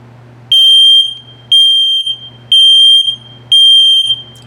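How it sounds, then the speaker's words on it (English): Low-battery alarm on the LP gas and carbon monoxide detector in a 2022 Keystone Premier 30RI travel trailer: four loud, shrill electronic beeps, each about half a second long, sounding alone and repeating once per second. "And now low battery alarm."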